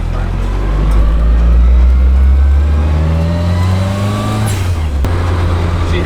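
A Nissan S14 Kouki's engine revs hard, pitch climbing steadily through the run before dropping off near the end, loud and close, with voices faintly under it.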